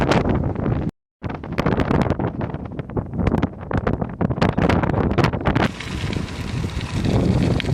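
Strong wind batters the microphone on a hard climb during a long ride around New Zealand, a loud continuous roaring buffet with gusty surges and one brief dropout near the start, and no voices.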